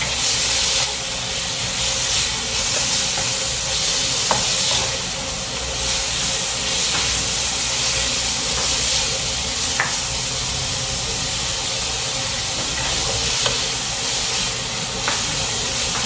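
Beef searing in a pan for a Filipino buko vegetable dish, giving a steady, continuous hiss and sizzle close up, with a few faint clicks and no talking.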